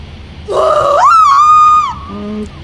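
A woman's strained, wavering scream in the video game What Remains of Edith Finch, performed at a monster-movie fan convention; it rises in pitch, holds for over a second, then sags into a lower, weaker tone.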